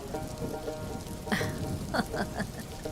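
Steady rain pattering on a surface, a continuous dense hiss with scattered louder drops, close and even across the whole stretch.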